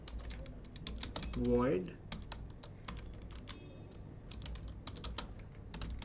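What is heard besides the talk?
typing code on a computer keyboard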